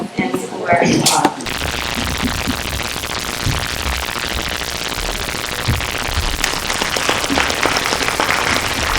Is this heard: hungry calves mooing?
no